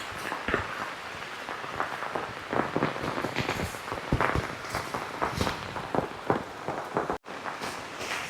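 Heavy, unrelenting rain falls at an outdoor tourist spot in Ernakulam near a waterfall, a dense, close hiss broken by irregular patters and splashes.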